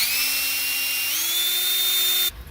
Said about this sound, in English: You do have to polish the inside of the hole